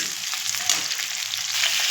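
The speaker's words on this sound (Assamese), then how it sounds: "মই গোল্ডেন কালাৰ হোৱাত লাগি ভাজিম পিঁয়াজখিনি" Onions and slit green chillies frying in hot oil, a dense, even sizzle heard up close and continuously, with no one speaking.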